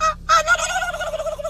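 A voice imitates a turkey gobble, a loud, close, rapid warbling call that drops out briefly and then resumes steadily, heard alone with no other talk.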